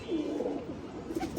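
Golden pigeons kept for a racing tournament give soft, low coos, quiet and fairly close, with a steady background hum and no voices.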